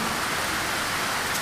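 Steady rain pours down outdoors, a dense continuous hiss at even loudness throughout, near a Rotax 912 aircraft engine that is not running.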